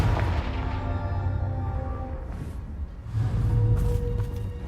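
A rumbling fire-curse blast in Hogwarts Legacy, low booming energy sustained for several seconds with a second surge partway through, loud and dense with no talking.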